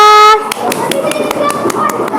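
A third-grade class of children claps for their classmates in a quick, evenly spaced rhythm of sharp hand strikes, coming right after a brief sustained voiced tone.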